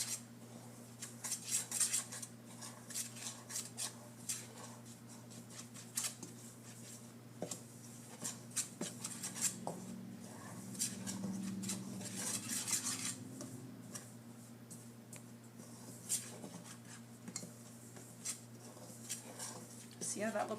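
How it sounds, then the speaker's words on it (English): A utensil stirs corn syrup into homemade play beach sand in a container, with scattered light scraping and clinking taps, close and quiet, while someone talks over it. "And that is going to get stirred in."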